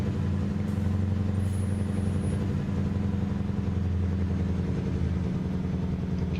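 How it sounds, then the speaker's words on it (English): A Mack Superliner truck's engine retarder brakes hard on the road, a loud, steady low droning rumble with a rapid pulsing growl that runs unbroken from start to finish. "I kind of need the retarder here"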